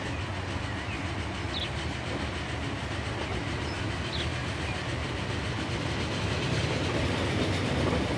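Steady rumble of a dark blue train with white carriages, the Washington-Toronto service in Transport Fever, rolling along the track with faint rhythmic clicks, continuous and even throughout, no voices.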